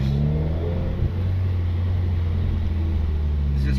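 A stock Subaru WRX engine drones steadily while driving, a loud continuous low hum with a slight dip near the one-second mark before holding its pitch.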